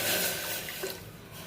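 A glass of water is poured into a cooker over lightly fried ingredients, making a close, rushing splash that fades out within about a second and a half, with no voices.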